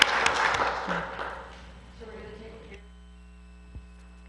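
An audience at a League of Women Voters meeting claps briefly and then fades out, leaving a steady electrical hum from the room's sound system with a few faint noises.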